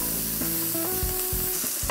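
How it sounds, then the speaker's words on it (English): Chopped onion and cumin seeds fry in a pan and get stirred, with a constant sizzle, scraping spoon strokes and soft knocks, heard close up. "In goes the onion, and we're just going to stir that"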